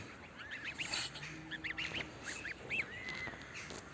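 Goose goslings give short, high peeping calls in small bursts, faint but close, against a quiet background.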